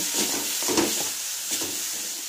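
A spoon stirs semolina (suji) in a hot pan, making a few soft scraping strokes over a low, steady sizzle, close and fairly quiet.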